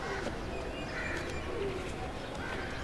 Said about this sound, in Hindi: ये थोड़े ज्यादा अथे किस्म के कबूतर हैं उनके।